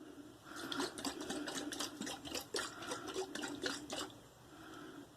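A bottle of runny aftershave balm shaken by hand gives rapid rhythmic sloshing and rattling pulses for about four seconds, close and moderately loud, then it stops.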